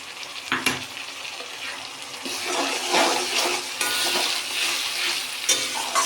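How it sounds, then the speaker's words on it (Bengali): An onion and coriander leaf paste fries in oil in a pan, making a steady sizzle broken by scraping stirring strokes that come close and loud. "এখন সুন্দর করে ভেজে নেব"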